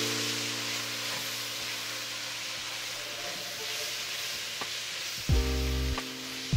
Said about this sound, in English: I'm going to toss in the soy sauce and do a quick deglaze with the soy sauce.